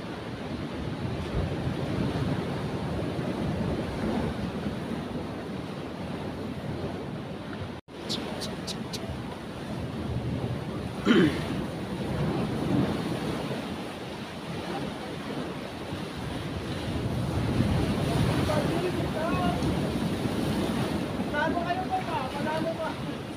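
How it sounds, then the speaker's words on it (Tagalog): Strong ocean waves wash against the shore in a steady roar, with wind buffeting the microphone and a brief faint sound from a person partway through. "malakas pa yung alon"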